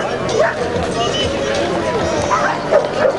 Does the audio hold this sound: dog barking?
yes